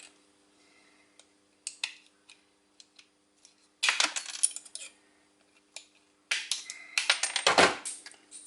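Short metallic snips and clinks from cutting away waste sheet metal, with scattered sharp clicks and then two denser bursts of jangling metal, close and fairly loud against near silence.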